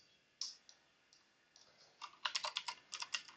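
Typing on a computer keyboard, close and crisp: a few scattered keystrokes at first, then a quicker run of clicking keys toward the end, with no talk over it.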